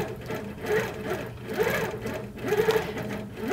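An HQ Avanté longarm quilting machine stitches continuously, a close, steady mechanical hum with rhythmic pulsing rises and falls as the head moves, and no voice is heard.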